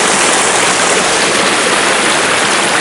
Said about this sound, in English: it's got streams running on both sides of it